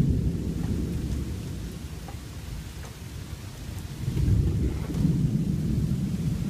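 A severe July thunderstorm in Newburyport, Massachusetts brings a heavy rain downpour, a dense steady roar of rain with low rumbling that swells louder partway through.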